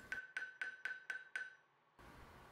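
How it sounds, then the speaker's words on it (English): A ball peen hammer taps the pivots of a steel divider six times in quick, even succession. Each strike is a bright, ringing metallic hit, close and clean, followed by a short quiet stretch and then a low steady hiss. "But you could do the whole thing with a ball peen."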